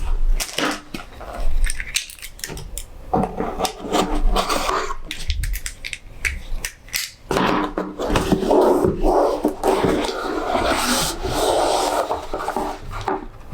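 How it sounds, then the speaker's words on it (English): Cardboard packaging of an Orlian laptop stand is torn and pulled open, giving close rubbing, scraping and crinkling bursts with brief pauses, louder and busier toward the end. "let's get into this box by opening it up"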